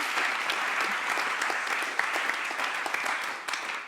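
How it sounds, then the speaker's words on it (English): An audience applauds steadily for about four seconds, many hands clapping at once in a dense, even patter at moderate volume. "So give him a round of applause as well"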